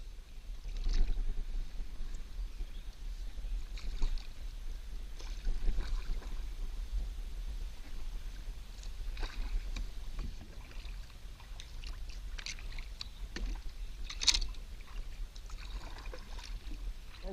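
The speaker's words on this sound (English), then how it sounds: "So, heading out, it's going to be a 4 to 5 mile paddle back." A kayak paddled across a flooded lake, with soft, irregular paddle dips and water splashes over steady low wind rumble, close and quiet with no talking.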